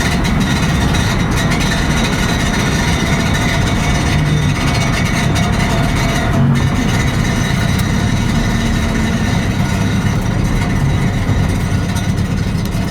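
A turbocharged K20-engined Honda Jazz idles with a steady, continuous low exhaust rumble, close and constant throughout.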